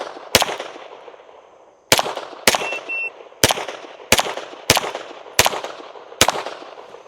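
A Staccato HD P4.5 pistol fitted with a recoil-reduction system fires eight loud, sharp shots at a steady, unhurried pace, each followed by a short outdoor echo, with no talking.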